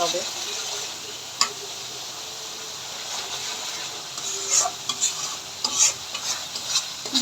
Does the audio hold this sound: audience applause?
no